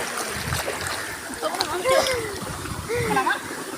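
Water splashes as someone jumps into a village tube-well pool, with sloshing and splatter up close under excited voices shouting and talking.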